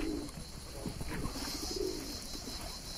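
Pigeons in Vorontsov Park in Alupka give soft, low cooing calls, a few murmured coos standing out over steady outdoor background noise.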